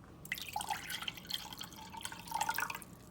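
Three-quarters of a cup of water poured into a cup for a cranberry lime detox drink: a soft, close trickle with small splashes and drips lasting about three seconds.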